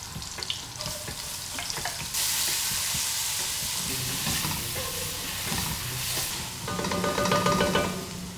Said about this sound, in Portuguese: E as cebolas vão dourar na manteiga e no azeite